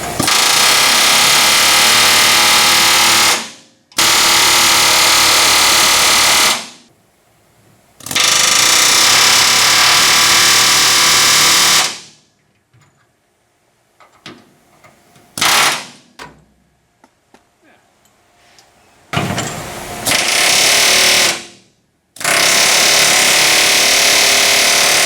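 A loud pneumatic air hammer rattles in long continuous bursts while working on a Ford F100 truck's rear end, stopping and starting several times with quiet clanks and taps in the pauses.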